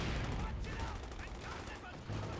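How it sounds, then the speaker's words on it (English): Ostwind anti-aircraft cannon firing in Company of Heroes 2, a dense, loud stream of rapid bursts filling the whole moment alongside other battle noise. "The rate of fire on this Ostwind now super ferocious"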